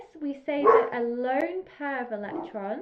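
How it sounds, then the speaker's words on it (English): A pet dog barks and yips faintly in the background while someone speaks steadily in the foreground, the short dog sounds partly masked by his voice. "you can hear my dog there in the background"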